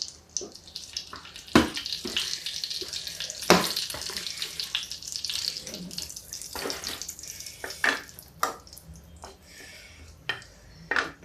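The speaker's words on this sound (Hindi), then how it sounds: "जीरा जैसे ही तड़केगा वैसे हम इसमें डालेंगे प्याज" Cumin seeds crackle and sizzle in hot oil while tempering on a kitchen stove, with irregular sharp pops over a continuous hiss, close and fairly loud.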